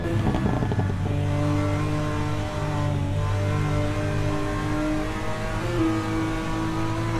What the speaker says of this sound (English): AMG has the best sound on the track.